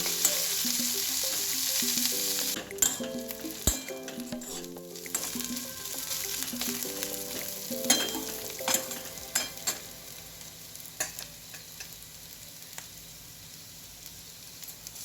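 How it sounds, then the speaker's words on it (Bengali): Chopped onion sizzling in a little oil with salt in a pan, a steady close crackle broken by scraping stirs and clinks of the spoon, with no talk. "পেঁয়াজটাকে ভাজতে দেবো নুন দিয়ে"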